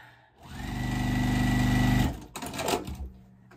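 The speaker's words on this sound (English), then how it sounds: "So now you want to sew block A on to this side." A sewing machine stitches a quilt block in one steady, loud run of about a second and a half, then stops, leaving brief handling rustles of fabric afterward.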